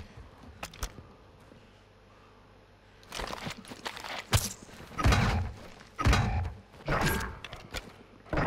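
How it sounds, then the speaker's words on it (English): Weapon magazine swap in a first-person shooter video game: a string of mechanical clicks, thuds and clunks, the busiest after a quiet opening, then several loud close knocks in quick succession with no talk. "Changing mag."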